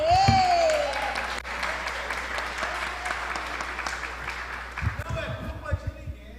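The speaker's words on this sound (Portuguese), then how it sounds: "Palmas para você." Audience clapping during a Sunday Bible school class at church, moderate and steady, with a voice speaking over the applause and some louder thumps and talk toward the end.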